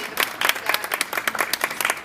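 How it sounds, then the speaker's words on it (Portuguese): Steady applause from a small audience at a book launch in Porto, Portugal, many hands clapping in a dense, continuous patter at moderate volume. "Eu queria uma salva de palmas para a Diana, que está aqui"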